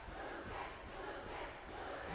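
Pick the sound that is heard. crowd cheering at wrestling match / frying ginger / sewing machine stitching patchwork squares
crowd cheering at wrestling match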